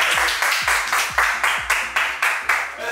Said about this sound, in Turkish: Alkışlarım ya.